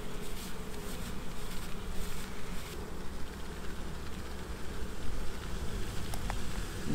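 Honeybees buzz steadily in a dense, muffled drone inside a jar being rolled with sugar for a mite check, with faint rustling and clicks.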